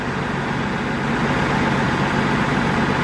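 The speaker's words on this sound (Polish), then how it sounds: "Silnik pracuje, słuchajcie." A Cummins N14 diesel engine runs steadily at idle, a loud, continuous low rumble with a dense mechanical clatter and no breaks.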